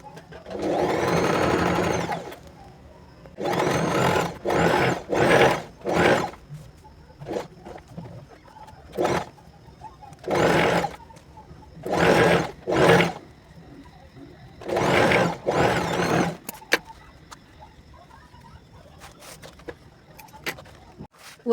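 A sewing machine stitches the lining of a puff sleeve on a blouse in repeated short whirring bursts, separated by brief pauses, with some faint talk in between.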